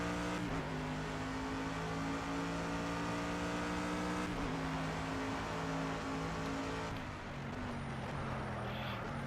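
A Mercedes race car in Project CARS holds a steady, droning engine note that climbs in pitch as it accelerates, dips at a shift, then climbs again, continuous and fairly quiet with no talking.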